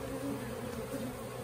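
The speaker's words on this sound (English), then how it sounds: "Bees are very active today." Honey bees buzz around a backyard hive on a mild day, a steady close droning hum that fills the whole clip with no talk over it.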